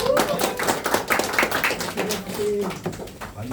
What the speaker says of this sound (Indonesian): Tepuk tangan dulu dong, tepuk tangan.